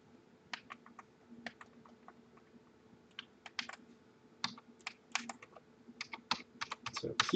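Computer keyboard keys are pressed in irregular bursts of quick, crisp clicks while testing controls for a 2D chess game, growing busier and louder toward the end, heard alone without talk.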